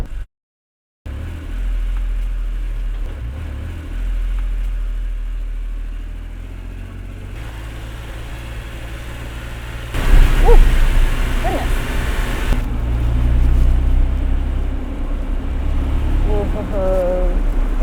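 A vintage car's engine hums and rumbles steadily from inside the cabin while driving, with a louder, rougher stretch partway through as it pulls harder, then settling back to a low running drone.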